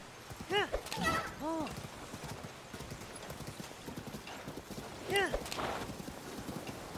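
Horse hooves clop steadily in the video game Zelda: Tears of the Kingdom, a rhythmic walking gait with a couple of short whinnies, while someone talks over it at times.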